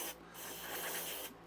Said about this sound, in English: So I've gone over to carburetor cleaner now